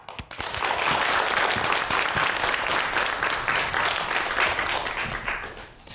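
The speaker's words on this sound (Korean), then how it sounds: "큰 박수로 강연 시작할게요." Sustained applause from a lecture audience, dense and steady clapping that swells quickly, holds for several seconds, then begins to taper off.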